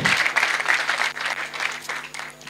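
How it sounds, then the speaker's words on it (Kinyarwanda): Audience at a wedding ceremony breaking into loud, dense applause, close and continuous, easing off slightly toward the end. "amashyi menshi cyane"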